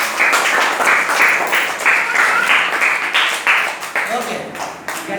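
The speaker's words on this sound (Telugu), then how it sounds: "గట్టి క్లాప్స్ కొట్టాలి" A group claps loudly in several strong bursts of applause that rise and fall over a few seconds, with voices mixed in.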